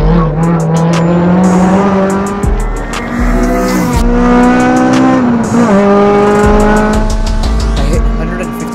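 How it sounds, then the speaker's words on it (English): An 8th generation Honda Civic passes on the Toronto Motorsports Park race track, its engine note loud and revving hard, rising and falling as it shifts gears and sweeps by a trackside listener. "Here is an outside clip of me as I drive past one of my friends."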